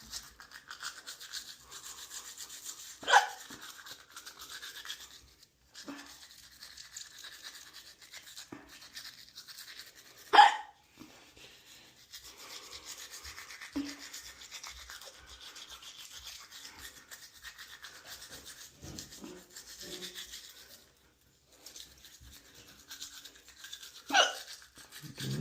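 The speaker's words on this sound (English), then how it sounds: "Always gotta make sure you're brushing from the gum" A toothbrush scrubs a child's teeth at home, a soft, steady rubbing with a few sharper, louder strokes scattered through, close by with no talking.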